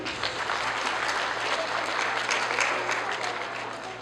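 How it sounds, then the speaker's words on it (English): A crowd at a primary school graduation ceremony claps steadily for the pupils, a full sustained round of applause with a low hum underneath and no talking. "I want a round of applause here, please."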